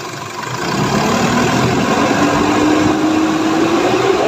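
An Isuzu D-Max diesel engine idles steadily and loudly up close, its low rumble holding even while the revs climb slightly toward the end.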